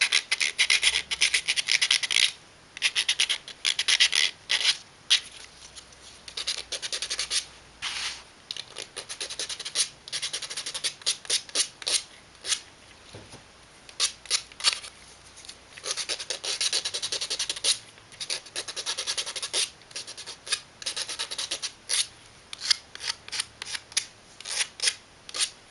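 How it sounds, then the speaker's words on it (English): Sandpaper rubs in quick, uneven back-and-forth bursts as tabs are sanded off a small gear box piece, with close, scratchy strokes separated by brief pauses. "sand off any tabs"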